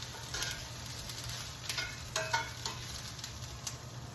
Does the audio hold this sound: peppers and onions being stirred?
yes